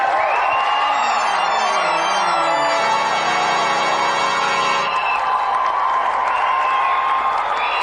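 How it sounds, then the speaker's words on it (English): A studio audience on a 1992 video game show breaks into sustained clapping and cheering for a losing contestant, loud and continuous throughout with whoops rising over the crowd. "Round of applause for Doug, everyone."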